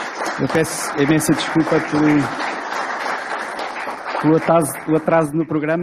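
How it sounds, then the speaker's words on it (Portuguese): An audience applauds a deputy at a regional health conference session, a steady wash of clapping that sits beneath someone speaking clearly into a microphone in the foreground. "uma salva de palmas para a senhora deputada"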